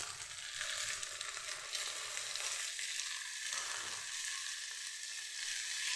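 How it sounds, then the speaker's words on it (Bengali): Chopped tomatoes hit fried onions in a pan, giving a dense, continuous sizzle with soft stirring underneath, steady and close throughout with no speech. "টমেটো কুচি দিয়ে দিচ্ছি।"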